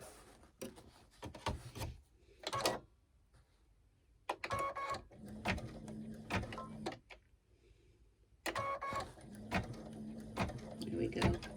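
Embroidery machine stitching an in-the-hoop potholder, quiet mechanical bursts of rapid stitching separated by pauses, with faint speech between.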